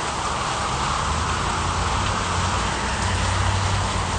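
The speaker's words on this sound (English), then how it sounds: "Cars are pulling over, it's raining so hard." Heavy rain pouring down during an intense rainstorm, a dense and steady roar of noise that stays loud and unbroken throughout, with a low rumble beneath, and no talk.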